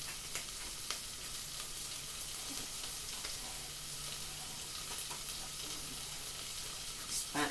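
Garlic and ginger sizzle steadily in a frying pan on turned-down heat, a soft continuous crackle with occasional stirring scrapes, fairly faint and close, with no talk over it.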